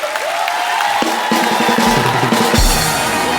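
A studio audience at a comedy talk show applauds and cheers loudly and steadily as guests walk out, with music layered over the dense clapping.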